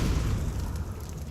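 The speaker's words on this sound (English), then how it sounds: "There's an incendiary throw." An incendiary grenade lands in a Counter-Strike 2 match, giving a short, dull booming burst with a rushing, fiery rumble that fills about a second and a half.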